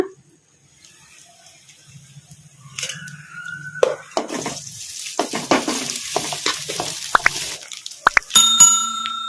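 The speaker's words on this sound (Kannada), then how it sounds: "ಈಗ ಅದನ್ನು ಹಾಕಿ ಕಲಸ್ಕೊಂಬಿಡೋಣ" Sizzling in a hot pan grows louder as cooked rice is stirred into a tempering for mango chitranna, with scraping and clinking of a spoon against the pan and a few sharp metallic taps.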